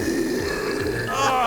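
A loud, low, drawn-out belch from Kong the giant cartoon ape, rumbling continuously for over a second with raspy, grunting texture and a slight swell at the end.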